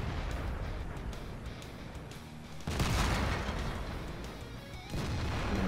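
Two deep, heavy cannon booms go off in a World of Tanks battle, spaced a couple of seconds apart. Each blast swells abruptly over a rumbling game background at a fairly low overall level.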